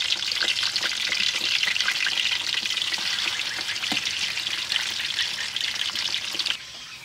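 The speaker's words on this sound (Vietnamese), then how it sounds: "bắt chảo lên chiên trước." Fish sizzles and crackles steadily in a frying pan in a home kitchen, a loud continuous hiss with occasional pops and clinks, fading slightly near the end.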